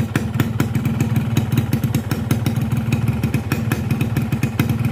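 A cold two-stroke motorcycle engine running on Repsol Smarter 2T oil idles close by, a loud, rapid, steady putter of firing pulses with a clattery metallic edge and no talk.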